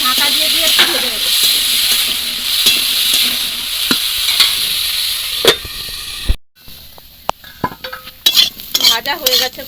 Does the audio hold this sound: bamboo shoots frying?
yes